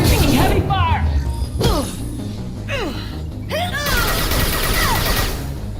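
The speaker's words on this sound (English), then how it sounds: "taking heavy fire" Heavy gunfire in Mass Effect 2 rattles in quick bursts with sharp smashing impacts, loud and close, as voices talk over the combat.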